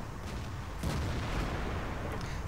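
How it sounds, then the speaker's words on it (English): Tank cannon fire in a World of Tanks battle as a shell strikes the frontal turret armor of an E75: a low rumbling background broken by a sharp, heavy impact, then continued booming, with no talk. "a shot to the frontal turret armor of an E75 is enough to finish it off"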